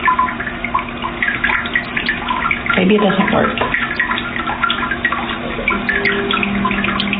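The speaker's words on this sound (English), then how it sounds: "I hear water." Water hissing and splashing steadily from a Japanese bidet toilet's rear spray, close and continuous, with a brief spoken remark over it.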